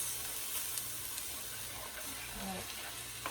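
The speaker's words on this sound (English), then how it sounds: "Just give that a good stir." A stir fry with sauce sizzling in a pan as it is stirred, a soft steady hiss with a few faint scrapes, fairly quiet and close.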